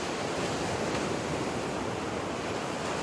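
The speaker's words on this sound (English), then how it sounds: "Or some ocean." Ocean surf at a coast, a steady, dense wash of breaking waves and foam with wind noise on the microphone, no voices.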